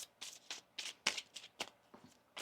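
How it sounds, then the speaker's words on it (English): Tarot cards are shuffled close up in a quick run of crisp riffling bursts, roughly nine sharp papery flutters in steady rhythm over a couple of seconds. "One more shuffle"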